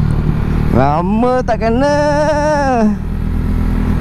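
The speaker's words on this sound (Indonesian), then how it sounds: "Memang seronok lah motor ni." A Modenas ZX-25R motorcycle engine revs hard while riding, its whine climbing sharply in pitch, holding high, then dropping away. The engine is close and loud, and the rider speaks briefly near the start.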